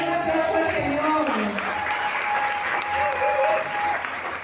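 Loud, dense applause fills a church during a Spanish-language prosperity retreat service, a sustained crowd of many hands clapping together, with a held musical tone lingering beneath.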